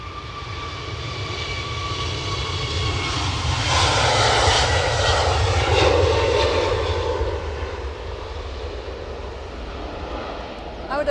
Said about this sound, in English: So this is British Airways A321 off to Heathrow.